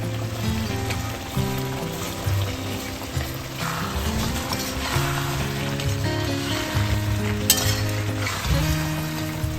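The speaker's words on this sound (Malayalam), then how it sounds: "ഇതിനകത്തോട്ട് നമ്മുടെ ഫ്രൈ ചെയ്ത തേങ്ങ എല്ലാം കൂടെ ഒന്ന് ഇട്ടിളക്കാം." Fried coconut being stirred into a thick mutton roast in a pan, with steady sizzling and frying crackle, scraping and occasional clinks of the spoon against the pan, close and continuous with no talk.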